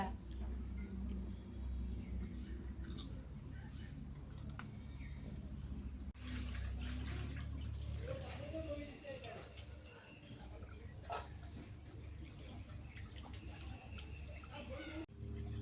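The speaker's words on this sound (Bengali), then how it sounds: "মাছগুলো সব কাটা হয়ে গেল, এখন ধুয়ে নি ভালো করে।" Small river fish are washed under running water, a steady splashing flow with clinks and handling noises, fairly faint, while people talk nearby.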